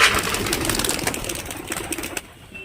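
Pigeons in a village setting at Daulatabad, Murshidabad, a close, busy mix of bird calls and rustling wing flutters with a low engine hum underneath, fading slightly at the end.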